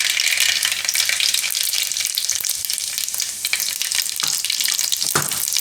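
Mustard seeds and cumin sizzling in hot oil on low heat, a loud, bright, continuous crackle up close, with a few sharp pops and spoon clicks.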